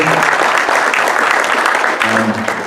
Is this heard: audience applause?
yes